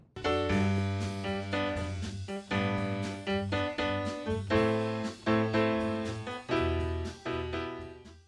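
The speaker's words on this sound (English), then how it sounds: "And then we have both together for the stereo piano sound." Stereo piano, with both microphones blended, plays clear rhythmic chords in repeated strikes that ring out, with no other sounds present.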